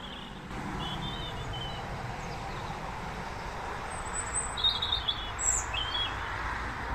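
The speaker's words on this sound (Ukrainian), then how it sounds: "Це гарно пташки співають." Small birds chirp and tweet in short bursts at a distance in Ireland, repeated over a steady outdoor hum with faint traffic.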